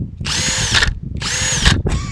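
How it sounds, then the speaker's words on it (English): Milwaukee M18 cordless drill, not an impact driver, spinning a paddle bit in two loud close bursts of steady high whine, each ending with a brief bogging change, then starting a third run. "Milwaukee drill, not an impact, with the drill paddle bit"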